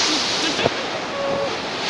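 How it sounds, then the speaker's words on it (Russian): The Shypit waterfall near Pylypets village rushes in a continuous broadband roar of falling water. The sound is close and loud, steady, with no pauses and a faint breath of wind over it. "Вот это водопад шипит."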